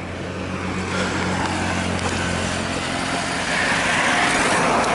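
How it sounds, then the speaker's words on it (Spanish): A car engine with a loose muffler runs close by, a steady rough drone with a buzzing, rattling texture that swells slightly louder near the end, with no talking. "Como que está un poco flojo el mofle este del carro."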